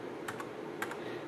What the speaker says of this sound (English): If you hit the Windows key, you can see it's pretty responsive.